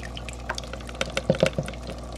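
Water is poured into a cup to soak a feeder worm for an axolotl, a faint patter of splashes and drips over about two seconds with a slightly busier burst in the middle.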